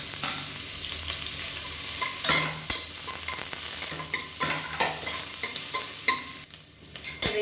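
Shallots and chopped onion sauté in hot oil for a bitter gourd soup, a steady close sizzle with repeated scraping stirs and spatula knocks throughout, no voices.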